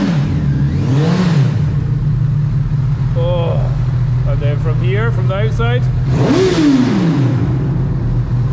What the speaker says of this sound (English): just see how fast the revs go up